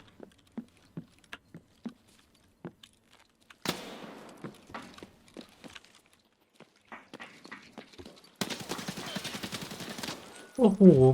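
Gunfire in Escape From Tarkov: scattered single shots crack out early, then a heavier burst, and a sustained rapid volley near the end, with a player's voice briefly heard.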